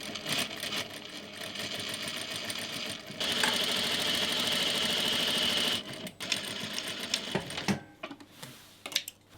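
A sewing machine stitches binding onto a handmade patchwork engagement dress, running steadily in close-up with a louder, faster stretch midway before slowing into short stop-start bursts.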